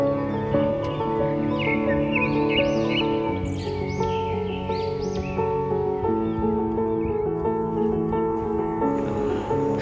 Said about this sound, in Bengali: চতুর্দিকে প্রচুর পাখির ডাক শুনতে পাওয়া যায়